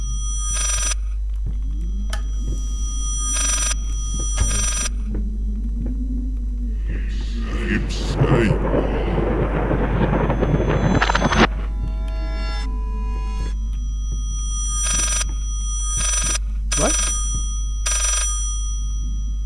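A telephone rings in the horror game Layers of Fear, sounding as repeated electronic bursts over a steady low hum. Someone briefly speaks between the rings.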